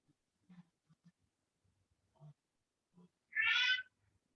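A single short cat meow, clear and close, during a quiet indoor yoga class, following faint scattered soft talk and small room noises.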